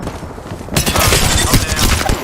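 Gunfire in the Apex Legends video game, a rapid burst of loud shots crackling in close after a brief quieter lead-in and continuing densely to the end.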